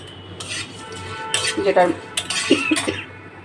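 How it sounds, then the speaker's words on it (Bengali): Whole spices (garam masala, dried red chillies, black peppercorns and cumin) are stirred in a dry pan, an irregular close scraping and rattling of a metal utensil against the pan in short bursts. "আগে আমি একটু শুকনো খোলায় একটু মশলা নেড়ে নিচ্ছি"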